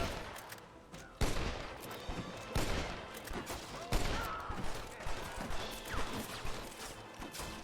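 Irregular bursts of gunfire in Red Dead Redemption, sharp cracks and volleys scattered across a busy, clattering game soundscape, some shots loud and close, others overlapping in rapid clusters.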